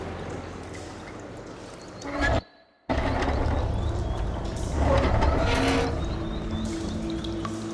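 Water rushing and flowing back into a room in a video game scene, a steady loud wash of noise broken by a brief silence, then swelling again.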